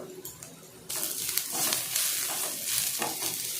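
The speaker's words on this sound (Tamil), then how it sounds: "எல்லாம் சேர்ந்து கலந்து விடலாம்" Masala with green chilli, turmeric, chilli powder and salt is stirred in a hot pan; after a quiet start, a loud sizzle rises with several close scraping strokes.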